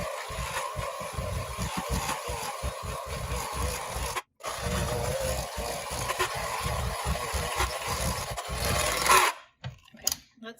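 An electric mixer beats cheesecake batter with cornstarch and granulated sugar, a rapid rhythmic churning and scraping against the bowl that runs steadily, stops briefly, then resumes before cutting out at the end.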